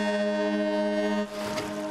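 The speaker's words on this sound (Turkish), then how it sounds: "Sis düdüğümü." A cartoon foghorn gives one loud, sustained tonal blast on a ship, rich in steady harmonics, then cuts off into a short burst of whooshing, splashy noise.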